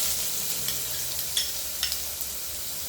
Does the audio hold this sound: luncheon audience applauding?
no